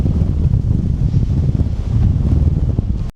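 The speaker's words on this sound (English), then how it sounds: "It's a bit windy now on here." Wind blows steadily across Whitby pier, a constant low buffeting rush against the microphone that holds for the whole stretch with no voices.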